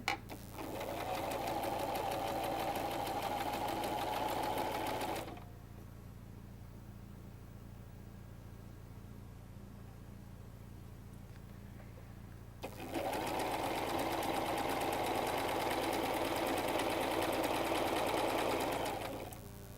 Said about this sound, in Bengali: দাগ বরাবর আমরা পুরোটা ঘুরে আসব সেলাই করে।